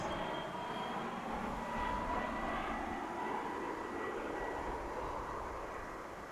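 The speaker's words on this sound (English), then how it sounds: "Oh, what do you know? It's another UPS plane." A UPS cargo plane at DFW International Airport roars steadily as a broad, distant jet engine rumble that holds at an even level throughout, with no talk.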